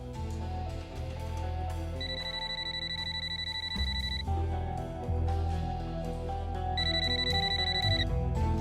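A telephone rings in two loud, steady electronic bursts over a dense, sustained musical score, with no talk during the rings.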